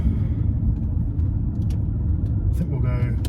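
Supercharged Aston Martin DB7 with a straight-six engine on the move, a steady loud low rumble from inside the cabin with faint brief clicks over it.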